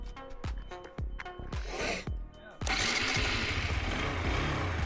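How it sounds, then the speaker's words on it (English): A 2021 KTM Duke 125 motorcycle being worked on during a rebuild coughs through several short starting bursts, then its engine catches and revs up into a loud, steady, continuous roar close by. "And now it's revving, so that's good."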